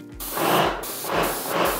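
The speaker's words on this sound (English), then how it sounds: "Release the safety catch and give it a test spray into a bucket" A Wagner sprayer fires water into a bucket in a test spray: three hissing bursts in a row over a low, steady pump hum, close up.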